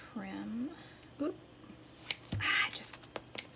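Scissors trimming journal pages: a few quick crisp snips near the end, following soft whispered talk.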